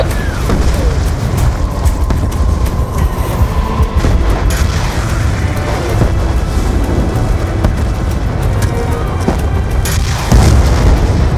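Heavy battlefield combat from Call of Duty Black Ops 2 as tanks are attacked near a base, a loud continuous roar of booms, rumbling blasts and gunfire with no pause throughout.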